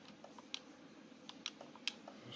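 Keyboard typing while searching for a double wishbone shock absorber part in a car mechanic simulator game: sparse, quiet clicks and a few sharper taps in an irregular rhythm over faint background hiss.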